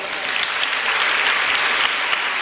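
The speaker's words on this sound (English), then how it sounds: "give her a big round of applause" A big, dense round of applause fills a room for Michelle Obama, steady and loud throughout the short stretch with no break.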